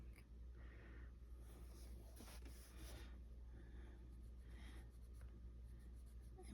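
A pencil scratches and strokes across paper during adult coloring, a soft continuous rasp with brief louder swipes, close and quiet over a steady low room hum.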